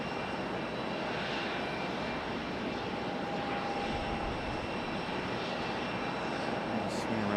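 A CRJ regional jet arriving at Raleigh-Durham International Airport, a steady broadband engine roar that holds loud and even throughout with no clear rise or fall.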